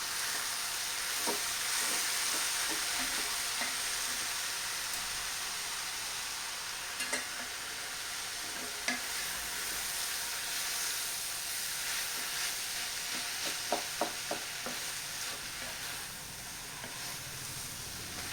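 Drumstick leaf thoran with salt stirred and frying in a pan: a continuous close sizzle and hiss with scattered clicks and scrapes of the spoon against the pan, no voices.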